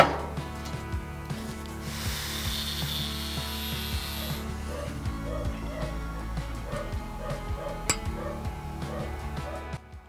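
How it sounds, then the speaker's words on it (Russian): Metal cutting on an empty soda siphon canister held in a vise, a steady rasping, scraping saw stroke running continuously and loudly close up, with occasional sharp clicks and knocks. "Зажимаем тиски и отрезаем."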